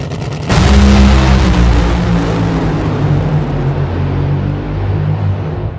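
A Funny Car driven by Chad Green makes a drag racing run, a deafening nitro engine roar that bursts in and holds steady for several seconds before easing slightly at the end.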